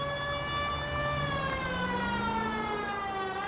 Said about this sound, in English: Is this because of my siren or what?